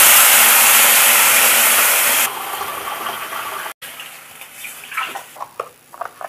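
Water poured into a pan for wheat rava upma, a loud steady gushing rush that cuts off abruptly, followed by quieter bubbling and a few sharp clinks or taps.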